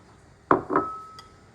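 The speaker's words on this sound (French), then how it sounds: "Je mélange." A utensil stirs cake batter with chopped almonds in a bowl, giving two clear, close clinks against the bowl, the second leaving a brief ringing tone that fades out.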